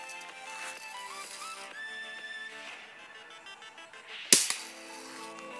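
A single sharp crack from a Daisy Red Ryder BB gun fired straight out of the box, cutting through a bed of steady background music, close and loud with a brief rattling tail.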